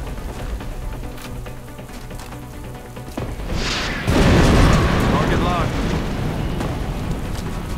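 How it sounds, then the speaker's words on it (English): A rocket fired in the video game X-Com Enemy Unknown, a whooshing launch followed by a loud booming blast and a rumbling, crackling aftermath under steady game background sound, while a person talks over part of it. "So let's actually fire this rocket first."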